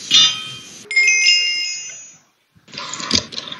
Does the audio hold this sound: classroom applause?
no